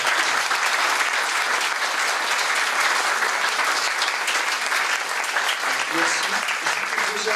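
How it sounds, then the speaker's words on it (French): An audience at a lecture on mental keys to success applauds the speaker again in sustained, dense, even clapping that fills the room throughout with no voices on top. "que je vous demande d'applaudir une nouvelle fois"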